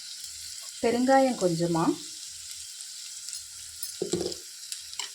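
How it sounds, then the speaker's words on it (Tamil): Shallots and curry leaves sizzle steadily in hot oil in a pan, a soft continuous fizz that runs under brief bits of a voice. "இங்கே ஒரு கைப்பிடி அளவு சின்ன வெங்காயம், கருவேப்பிலை, இதை தாளிச்சுக்கலாம்."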